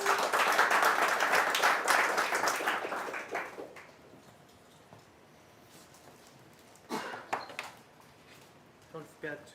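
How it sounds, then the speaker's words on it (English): Meetup audience applauding for a speaker, a burst of dense clapping that fades after a few seconds, followed by quiet room noise with a few scattered claps and brief voices. "Can everyone give Jesse a round of applause, please?"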